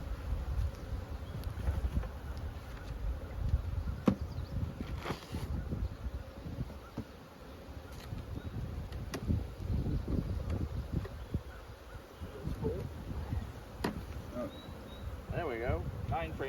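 Honeybees buzzing around an open hive during brood chamber work, a steady low hum close by with wind noise over the microphone and occasional brief sounds.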